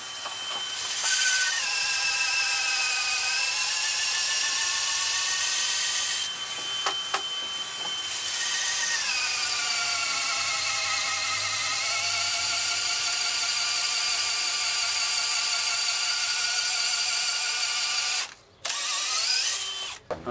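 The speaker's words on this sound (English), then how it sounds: "which is just drilling a hole, of course isn't easy" A power drill bores a hole aboard a rescued sailboat during a steering upgrade, whining steadily and close for long stretches with a brief pause partway, then cutting off near the end; no voices are heard.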